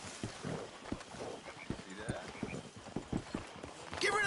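Horse hooves clip-clopping in Red Dead Redemption 2, a run of close hoof strikes in an uneven walking rhythm, with voices talking over them.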